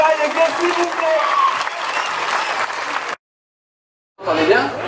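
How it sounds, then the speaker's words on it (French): Loud, sustained applause from a crowd at a zoo show with guinea pigs fills the first three seconds, cuts to silence, then resumes briefly with a voice over the clapping. "un tonnerre d'applaudissements pour les cobayes"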